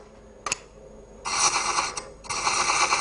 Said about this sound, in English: I'm bringing the chaser around to square up the thread parallel to the work now.